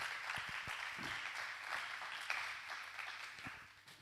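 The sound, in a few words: congregation applauding the Lord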